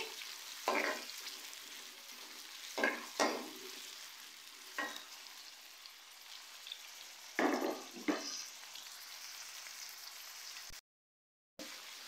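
Onions frying until light brown for bhuna chicken, a continuous hiss of hot oil with periodic louder scraping stirs every couple of seconds, close and fairly quiet, no voices.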